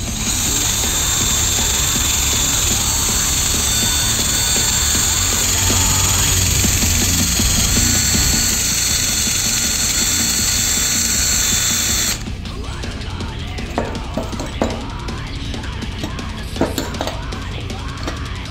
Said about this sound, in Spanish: Lo voy a hacer con el cepillo de alambre y el taladro.